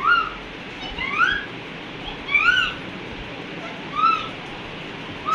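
A child imitates a parrot, producing a series of shrill, swooping whistled squawks spaced a second or so apart over constant background hiss.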